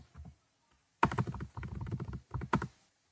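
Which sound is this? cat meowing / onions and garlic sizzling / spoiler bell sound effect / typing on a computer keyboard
typing on a computer keyboard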